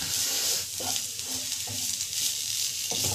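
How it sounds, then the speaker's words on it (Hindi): Karela (bitter gourd) frying in a pan over medium heat, a steady bright sizzle with soft scraping stirs every second or so, close and alone. "अब इसको हम भूनेंगे हल्का मध्यम मध्यम आंच पर 5-6 मिनट तक भूनेंगे।"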